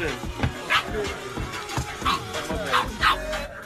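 A new puppy yips and barks in short, repeated bursts at close range, with a few whimpering notes between them and faint voices underneath.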